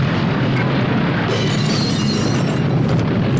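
A dense, sustained rumbling boom fills the clip, like a continuous explosion or blast roar with no pauses, from the 1982 film The Thing.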